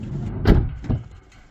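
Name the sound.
Hyundai Starex van doors rattling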